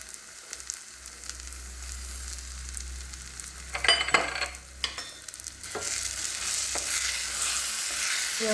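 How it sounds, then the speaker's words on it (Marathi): A mixture of wood apple pulp and sugar stirred in a pan, giving a low steady sizzle with intermittent scraping strokes of a utensil, faint and continuous. "घट्ट होईपर्यंत मिश्रण हलवत राहावे."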